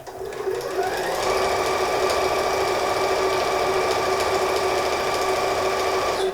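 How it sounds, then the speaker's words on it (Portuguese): A sewing machine stitches fabric for a patchwork bathroom rug, running continuously at a steady fast whir with a tonal hum and rapid needle chatter, close and alone. "Máquina de costura, minha máquina já está ajustada para meio centímetro"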